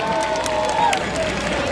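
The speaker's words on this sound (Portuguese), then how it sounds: "Palmas pro pintinho, gente." An audience applauds and cheers for a costumed chick character at a live Children's Day broadcast event; the clapping is a steady, dense wash from the crowd, mixed with faint background music.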